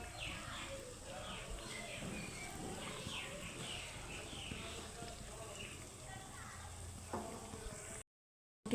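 Sweets made from flattened rice (chira) fry in hot oil, browning on one side, producing a dense, continuous crackling sizzle close by that cuts off just before the end.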